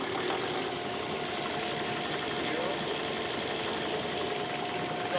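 A CAT 3406B diesel in a Kenworth cabover that sat unrun for 25 years, running with a steady, dense mechanical clatter that holds close and loud throughout, with no clear rise in pitch.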